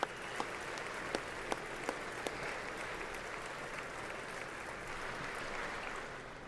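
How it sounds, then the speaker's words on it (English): Members of Congress clapping for the First Lady at the 2019 State of the Union; a broad, distant wash of applause continues steadily, with a few sharper claps standing out early on. "Why are we stopping to clap for the First Lady?"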